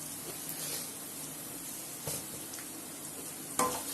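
Onions and fenugreek seeds sautéing for a fish kuzhambu sizzle softly and steadily, with a couple of faint stirring scrapes and one louder clink near the end, without talking.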